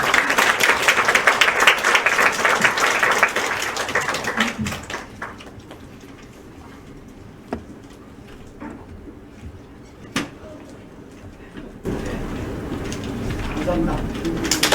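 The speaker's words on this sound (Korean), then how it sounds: "큰 박수로 모시도록 하겠습니다." An audience at an academic joint conference claps to welcome a keynote speaker, with dense, fairly loud applause for about five seconds before it fades into a quieter room with scattered small noises.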